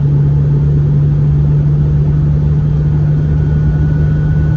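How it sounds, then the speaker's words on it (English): A tuned Abarth car engine drones loud and steady at close range as it passes another car on a track, with a constant low rumble and no audible gear changes. "And Sophia ABARTH has passed Mouseball, which was expected because the car is tuned."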